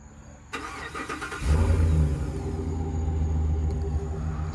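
A 2020 Chevrolet Silverado 2500HD LT Z71 crew cab pickup starts by remote, a brief cranking whir then a loud catch into a deep, steady idle rumble that holds close and even.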